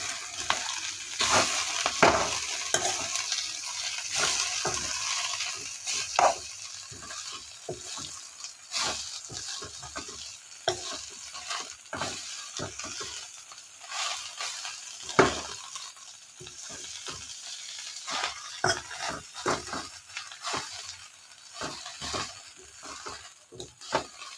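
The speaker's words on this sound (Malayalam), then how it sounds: "മഞ്ഞൾപ്പൊടി, ഇനി ഇളക്കി കൊടുക്കാം." Drumstick leaf thoran being stirred in a pan with turmeric powder, repeated scraping and tossing strokes of a spoon over a soft sizzle, close and irregular with no voices.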